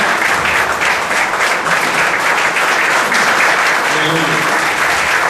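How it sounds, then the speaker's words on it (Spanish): Loud, continuous applause from a standing church congregation, dense clapping that fills the room throughout, with a faint voice or sung tone surfacing near the end. "Póngase de pie esta mañana y déle el mejor de los aplausos a aquel que vive y que reina siempre"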